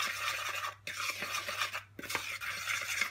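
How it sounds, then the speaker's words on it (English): A spoon stirring dry wheaten bread ingredients, flour and bicarbonate of soda, in a bowl: a brisk, close scraping and clinking against the bowl with two brief pauses, no talking. "Let's mix all that up."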